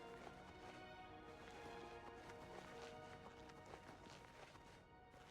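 Horse hooves clip-clopping at a run in the video game Oblivion Remastered, a steady rapid beat under dense game music and ambience, moderately loud and continuous throughout.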